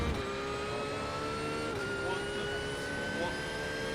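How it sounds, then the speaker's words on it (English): A Porsche GT3 race car engine in iRacing at Spa-Francorchamps drones loudly and steadily, with a high whining tone that dips slightly around the midpoint before holding on, no talk over it. "Why is the car so loud?"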